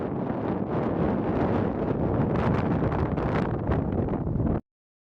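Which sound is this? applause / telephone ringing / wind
wind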